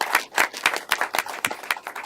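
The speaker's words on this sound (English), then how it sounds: "So a big applause to HOC" A small audience at a county press conference on a housing campaign gives brief applause, a handful of close, distinct hand claps in an irregular patter lasting about two seconds, with no talk over them.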